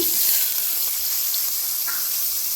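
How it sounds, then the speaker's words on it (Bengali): Shredded coconut fries in hot ghee with a steady, bright sizzle and hiss that stays even and close throughout. There are only faint stirring touches and no talking. "নারকেল কুচি ভাজার সময় একটু লক্ষ্য রাখবে"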